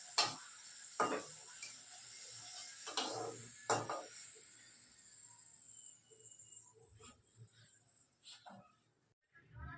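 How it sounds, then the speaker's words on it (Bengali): Hing kachori (asafoetida-stuffed fried pastries) sizzle in very hot oil with a steady hiss, broken by a few louder stirring scrapes and clatters near the start, at close range with no talking. "তেলটা অনেকটাই গরম হয়ে গেছে। হিঙের কচুরি এটা।"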